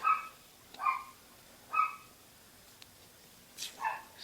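Indoors, a pet dog barks in separate sharp bursts, three spaced single barks followed after a pause by a quick double bark, fairly close and moderately loud, with no one talking.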